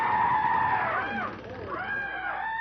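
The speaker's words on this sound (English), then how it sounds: "That's the cry of the pavo cristatus." Peacocks (Pavo cristatus) crying out, a pair of birds giving loud, wailing, sweeping calls that rise and fall in overlapping arcs, continuous and close.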